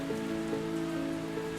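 Steady rain falling on an afternoon, a continuous even patter with no voices, though sustained tonal hum lines run underneath throughout.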